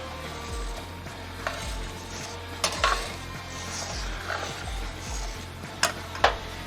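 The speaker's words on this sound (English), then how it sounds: "see that's bubbling up nice?" Beef stroganoff sauce in a pan, with a soft bubbling simmer under occasional clinks and scrapes of a utensil against the pan, close and fairly quiet, no speech.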